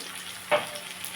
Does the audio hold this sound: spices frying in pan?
yes